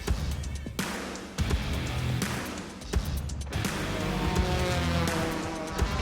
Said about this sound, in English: His car coming through that corner.